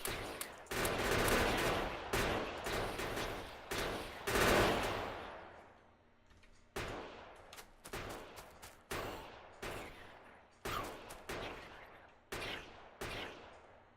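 Gun turrets firing in Factorio: bursts of rapid automatic gunfire, dense and continuous at first, then breaking into shorter spaced volleys of loud cracks with brief decays between them.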